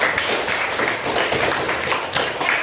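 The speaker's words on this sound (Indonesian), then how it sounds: "tepuk tangan yang sudah menjawab." A classroom full of students claps together, dense and loud, sustained for the whole short stretch.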